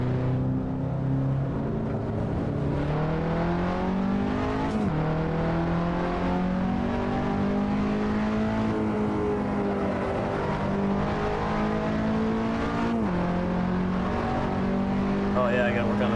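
Race car engine in Assetto Corsa revving steadily through the gears, a loud continuous drone whose pitch climbs and drops at shifts, with a voice talking over it.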